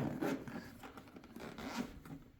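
Close, scratchy tearing and scraping as a rear view camera kit box and its plastic bag are pulled open, a few rough bursts in quick succession.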